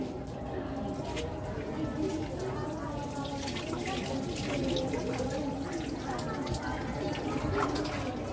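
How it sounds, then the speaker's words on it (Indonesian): Clean water runs from a tap and splashes continuously while a body is rinsed during a ritual washing demonstration, a steady close flow with drips, and quiet voices murmur beneath it. "Kemudian bilas dengan air bersih."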